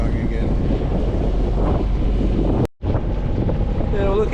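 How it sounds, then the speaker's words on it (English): Boat engine droning steadily while strong headwind buffets the microphone at sea near a sunken mountain range, with ocean swell; a loud continuous roar broken by one brief dropout. "the wind's right in the face, so I've got the engine going again"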